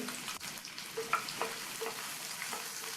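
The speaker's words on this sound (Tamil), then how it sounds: "இந்த வெங்காயம் பூண்டு எல்லாத்தையும் 1 நிமிஷத்துக்கு வதக்கி விட்டுக்கலாம்" Small shallots, chopped onion and garlic sauté in hot sesame oil, a quiet sizzle with a few light stirring clicks and scrapes, close and without talk.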